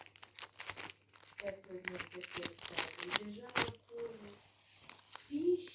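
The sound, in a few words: plastic packet crinkling being opened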